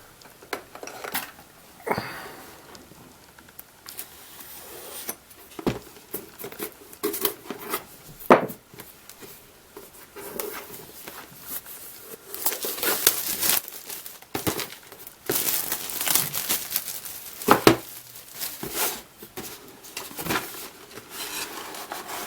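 Plastic packaging on a 1970 Ford Galaxie AMT 1:25 scale model car kit is cut open, with close crinkling, tearing and rubbing that comes in uneven bursts and sharp rustles, louder toward the end, with no talking.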